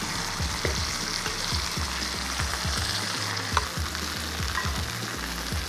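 NY strip steaks fry in a pan while being basted with hot butter, thyme and garlic, giving a loud, steady close-up sizzle with quick crackling pops and spoon scrapes.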